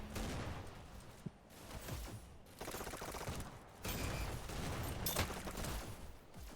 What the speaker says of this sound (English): We see Nugget with the SMG pistol combo.